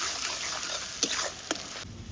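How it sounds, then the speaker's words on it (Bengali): Chopped chili, turmeric and salt fry in a pan in a village kitchen, a steady close sizzle with two brief stirring scrapes before the hiss drops away. "লঙ্কা কুচি, হলুদ দিয়ে দিলাম আর লবণ। এবার ভালো করে ভেজে নিতে হবে।"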